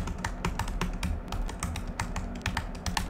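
Brisk typing on a computer keyboard while coding in Python, with quick irregular key clicks close up and continuous, alone without speech.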